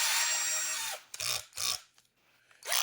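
A good cordless drill driver runs in a burst of whirring for about a second, then gives short separate pulses of motor whine, loud and close, with no talking.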